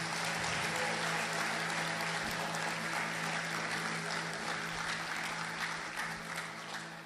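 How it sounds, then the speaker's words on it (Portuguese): A Portuguese-speaking church congregation applauds the Lord in a long, even roar of clapping that stays full and steady for several seconds before easing slightly at the end. "Você pode aplaudir o Senhor mais uma vez?"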